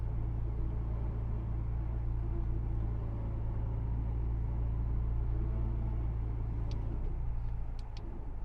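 Vehicle winch reeling in its line under tension, a steady low motor drone and rumble running continuously at close range, dropping slightly in pitch near the end, with a few faint high clicks.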